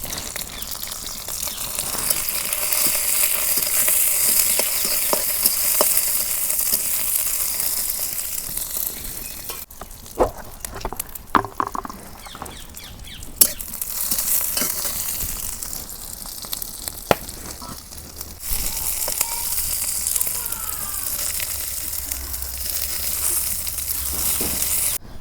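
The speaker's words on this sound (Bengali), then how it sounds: "এই দেখো কাঁচামচ আগে ভাইজা নেই।" Green chillies frying in mustard oil for a taki fish and bottle gourd curry: a loud continuous close sizzle with scattered pops and utensil clicks, the crackle thinning briefly partway through before resuming.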